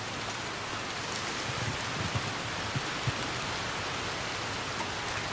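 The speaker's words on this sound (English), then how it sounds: "Damn, it's pouring rain." Heavy rain pours steadily in Red Dead Redemption 2, a dense, even hiss with a few soft drop taps, alone and fairly quiet.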